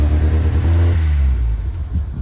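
A 1976 MGB engine runs loud and close, rumbling and revving, with the revs rising then easing off into a rough idle.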